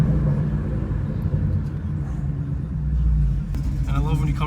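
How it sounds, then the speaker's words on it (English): A Ford fitted with stainless headers and a Borla catback exhaust idles with a steady, deep low rumble and a lopey cam note, close and fairly loud, as voices come in near the end. "you can just hear that idle, the ghost cam"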